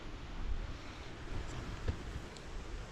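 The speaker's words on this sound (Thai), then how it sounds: "เสียงลมนะอุกอุกเลย" Strong wind blows through a forest on a cold February day during a solo trip into the woods: a steady, broadband rushing roar with low rumbling gusts throughout, and no voices.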